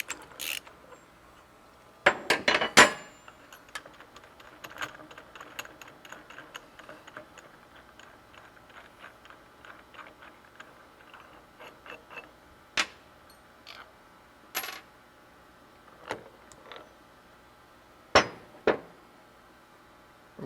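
Bolt being unscrewed from a bearing press tool during a BTE tamper vibrator motor bearing job: clicking, ratcheting metal mechanism sounds in quick irregular bursts, with a few sharper louder knocks, close up and without talk.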